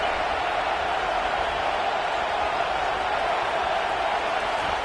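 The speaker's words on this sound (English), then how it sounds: "Decibels rising as the crowd gets behind this defense on 3rd down." A football stadium crowd roars loudly behind the defense on third down, a dense unbroken swell of noise that holds at full volume throughout.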